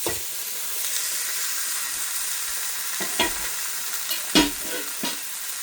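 Pork chops sear in a skillet with spices, a steady close hiss and sizzle punctuated by a few sharp scraping knocks and clatters as the meat goes back into the pan, with no one speaking.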